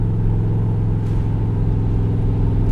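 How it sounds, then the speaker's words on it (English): A 1964 Corvette coupe with a loud side exhaust idles close by, giving a deep, steady, throbbing burble with a heavy low rumble that holds even throughout, with no talking. "It's a legal exhaust system, but it's loud"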